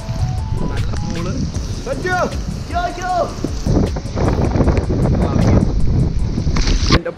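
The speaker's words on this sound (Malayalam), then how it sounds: "നല്ല മഴ" Heavy rain pours outdoors as a dense, continuous hiss, with wind buffeting the microphone. Voices talk loudly over the downpour.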